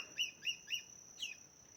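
A squirrel in the forest gives an alarm call: four sharp, evenly spaced chirps, the last after a short pause, moderately close against quiet woodland background, with no talking.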